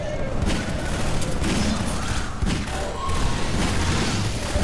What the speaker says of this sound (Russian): Этот револьвер с ними легко справляется.